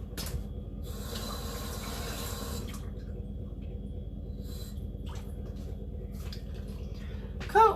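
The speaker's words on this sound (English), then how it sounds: "then we're just going to add that water in." Water poured from a can into a cooking pot of quinoa with tomatoes, a steady splashing fill lasting several seconds with brief clatters near the end.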